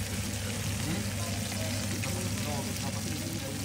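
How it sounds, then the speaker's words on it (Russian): Steady close-up sizzling of floured fish frying in hot oil in a pan, a continuous crackling hiss with a faint voice in the background. "жарим."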